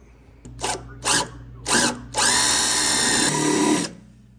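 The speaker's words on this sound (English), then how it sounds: "get the proper hole drilled in the Yugo frame and get 3 of these inserted in there" A power drill with a step bit bores a hole in a Yugo car frame. Three short, loud whirring bursts come first, then one long, steady grinding run that stops abruptly, all close and with no talking.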